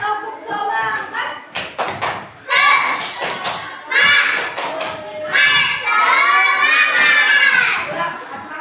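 A classroom of children claps and shouts together in a rhythmic chant, sharp bursts of hand claps and loud young voices alternating in short bouts, close and lively.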